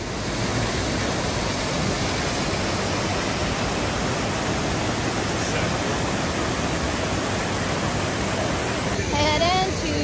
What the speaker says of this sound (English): Show them the waterfall.